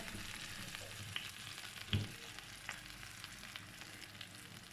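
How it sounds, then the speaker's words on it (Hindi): Hot oil sizzles and crackles steadily with a soft, continuous frying hiss and a few small pops as spices are tempered for Punjabi-style kadhi pakora. "देखिए क्या ज़बरदस्त सा तड़का तो लगा है"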